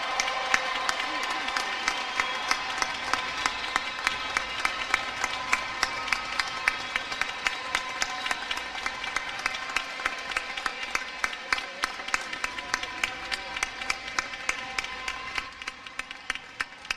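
Commencement crowd applauding graduates, dense sustained clapping with some cheering, gradually thinning toward the end.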